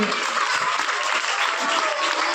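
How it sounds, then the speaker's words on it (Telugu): Audience at a National Science Day event applauding, a dense, steady wash of clapping from many hands filling the room at close range. "చప్పట్లతో అందరు గట్టిగా అయితే మీరు అరుపుల కంటే చప్పట్లే కింపడాలి"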